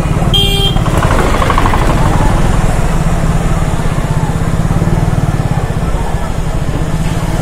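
Busy vegetable market street with motorcycle engines droning close by and a short horn toot near the start, a constant loud traffic rumble throughout.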